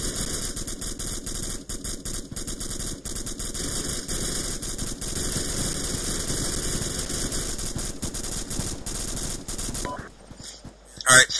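Gunfire in the ArmA 2 military video game during an ambush, a dense continuous rattle of rapid shots lasting about ten seconds before cutting off into brief quieter sounds.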